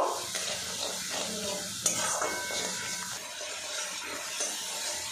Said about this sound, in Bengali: এবারে এখানে সামান্য জল দিয়ে দেব।